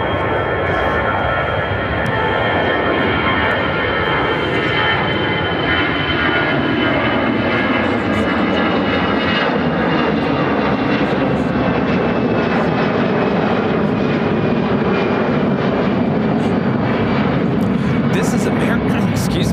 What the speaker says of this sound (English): American Airlines 2813 taking off to Washington Reagan National on the A319